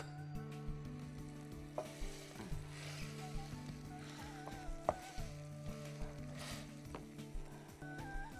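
Roasted garlic and onion for tomato soup are mashed in a pan with soft, steady scraping and pressing strokes over a low sizzle, heard close and without talk.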